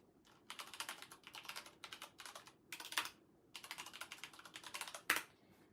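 Rapid bursts of typing on a computer keyboard while setting up a user account during a Windows 10 installation, clicky keystrokes in clustered runs with short pauses, fairly close and clear, with no talking.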